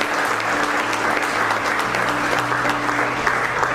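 An audience at a stage event claps steadily in dense, sustained applause welcoming a guest, filling the whole stretch evenly with a faint hum beneath and no clear talking.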